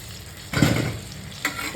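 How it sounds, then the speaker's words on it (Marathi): Pav bread rolls frying in butter on a hot griddle, a soft sizzle with two louder bursts of crackle as the bread is pressed or turned, close by with no talk. "तव्यावरती बटर टाकलेलं आहे त्याच्यावरती हे पाव चांगले आता फ्राय तळून घेऊया"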